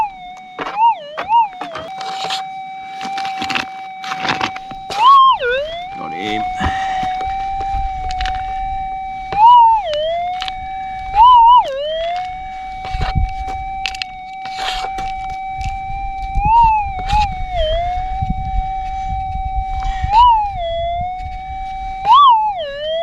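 A metal detector screams with a loud, sustained high tone over a shallow gold nugget in hilly ground, the pitch swooping and dipping repeatedly as the coil sweeps. Scraping and digging noises sit underneath.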